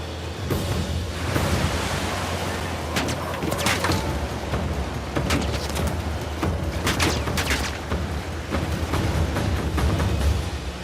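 Gunfire rattles through a jungle firefight in Uncharted: The Lost Legacy, with sharp bursts and single shots scattered irregularly over a constant roaring backdrop, some near and loud, others more distant.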